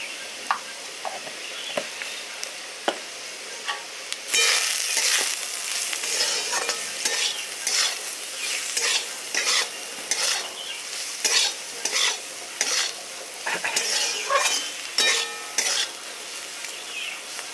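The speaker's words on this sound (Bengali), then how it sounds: "আলুটা আমার ভাজা হয়ে গেছে আলুটা আমি বার করে নিচ্ছি" Potatoes fry in oil in a kadai with salt and turmeric. A soft sizzle and a few clinks give way to a loud, steady crackle, with repeated scrapes and taps of a spatula stirring the pan throughout.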